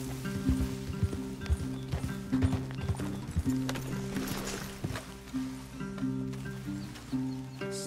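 Horse hooves clip-clop at a walking pace in the Red Dead Redemption 2 video game, steady and moderately close, with low tonal game ambience underneath.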